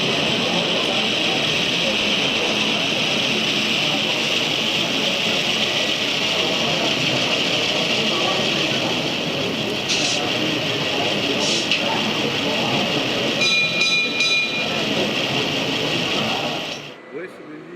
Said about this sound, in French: l'opération de dételage est couplée avec une légère marche arrière pour détendre l'attelage, suivi de l'opération de dételage, puis enfin une légère marche avant pour dégager.